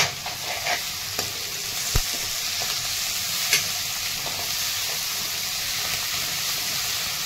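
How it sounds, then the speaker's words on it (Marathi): Cumin, mustard seeds, curry leaves, green chili and garlic frying in oil for a yogurt kadhi tempering, giving a steady close sizzle with occasional sharp pops and stirring clicks throughout, no talking. "जिरी, मोहरी, कढीपत्ता, हिरवी मिरची आणि लसूण हे बारीक करून टाकलेलं आहे"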